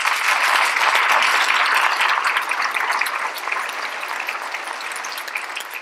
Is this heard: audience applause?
yes